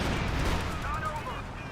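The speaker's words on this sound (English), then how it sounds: "Panzerwerfer barrage running on in." Panzerwerfer rocket barrage explosions in Company of Heroes 2, a dense rumbling blast wash with overlapping booms and roaring debris. The sound is loud and sustained, with faint whistling tones partway through.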